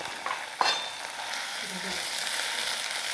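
Onions and green chillies fry in hot tempering oil with ginger-garlic paste for a cauliflower curry, a steady close sizzle with a sharp clink of a spoon early on.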